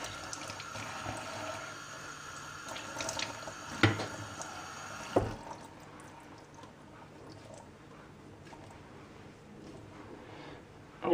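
Tap water runs steadily while a toy horse's matted doll hair is rinsed at a sink, with a few splashes and clunks before the flow stops and a quieter room remains.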